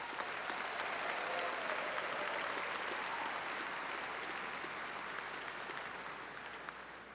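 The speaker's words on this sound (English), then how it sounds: "Let's give them a round of applause." Applause at a summer university commencement ceremony for trustees and alumni, a large audience clapping steadily in a big hall and slowly fading toward the end.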